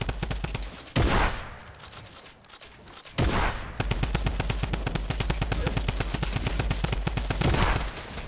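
Fortnite Battle Royale gunfire: two short bursts, then a long rapid stream of automatic shots rattling on steadily, close and loud, with game audio beneath.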